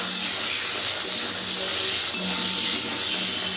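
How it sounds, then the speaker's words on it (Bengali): Small pieces of potato fry in a pan for a vegetarian soybean dish, giving a steady, even hiss and sizzle that runs throughout with faint clinks. "সমস্ত আলুগুলোকে আগে আমি একটু ভেজে নেব।"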